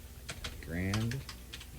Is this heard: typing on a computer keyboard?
yes